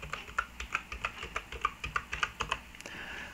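Steady typing on a computer keyboard during a Radxa X4 operating system installation, a quick run of close, crisp key clicks in an even rhythm with no talk.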